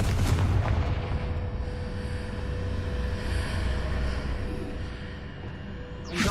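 A Confringo explosive spell going off in Hogwarts Legacy, a loud, rumbling blast with a deep low boom that holds steady for several seconds before a fresh burst at the end.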